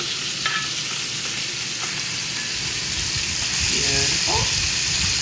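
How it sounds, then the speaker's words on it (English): Lamb chops sear in a hot pan with a steady, loud sizzle that swells slightly near the end. A voice speaks briefly over the frying. "let's see if these chops are ready for their turn."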